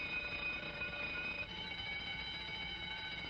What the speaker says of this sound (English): Sounds like every burglar alarm in the whole area is going off at once.